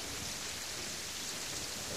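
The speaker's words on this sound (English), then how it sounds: "I mean, the rain sounds lovely" Steady rain in the video game Terraria, a dense continuous hiss of falling drops with a faint low rumble beneath, even and unbroken throughout.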